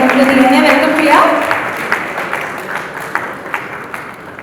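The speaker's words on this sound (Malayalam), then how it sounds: "നല്ലൊരു കൈയടിയോടെ നമുക്ക് ദിയനെ വെൽക്കം ചെയ്യാം." Audience applause welcoming Tamil actress Diya Mayurika at the ROMCOM movie title launch, a moderate burst of clapping that fades over a few seconds into scattered individual claps.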